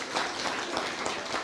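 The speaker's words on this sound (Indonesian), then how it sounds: "Berikan tepuk tangan bagi Tuhan." A church congregation claps during an Indonesian-language service, a brief, fairly soft patter of many hands heard alone at moderate distance.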